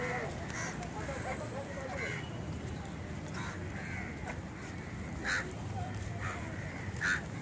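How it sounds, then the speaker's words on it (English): Crows on the Mumbai beachfront at Bandra caw repeatedly in short, scattered calls over several seconds, some close and louder, against a steady outdoor background rumble. "These are the crows."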